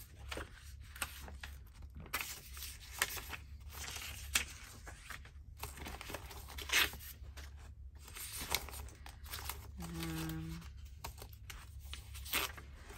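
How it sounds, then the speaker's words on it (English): Narrow strips of Florentine paper are handled for a craft document holder, giving soft intermittent rustles, crinkles and light taps close by, with one brief tonal squeak partway through. "I have lots of narrow strips of Florentine paper."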